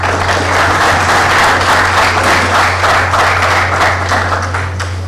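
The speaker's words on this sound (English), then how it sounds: "And a round of applause, please." Loud, even applause from a conference audience carries on without pause, a dense wash of clapping hands with a steady electrical hum underneath.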